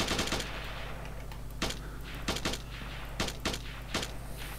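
Gunfire from two weapons in an Unreal Engine 5 shooter: several loud, sharp bursts of shots, a quick rattling volley at the start and then spaced single and paired cracks, close and alone over a steady low hum.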